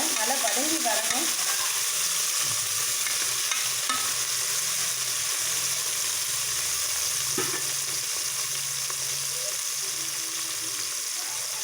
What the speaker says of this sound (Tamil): இந்த விழுது தக்காளியெல்லாம் நல்லா வதங்குற வரைக்கும் நல்லா வதக்கி எடுத்துக்கோங்க.